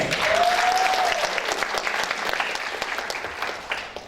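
Audience applause at a junior recital, a dense, steady patter of many hands with a brief whistle near the start, gradually thinning toward the end.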